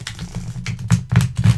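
Tall tarot cards are riffle shuffled by hand, giving a close run of crisp fluttering clicks with a few louder slaps as the halves interleave and settle.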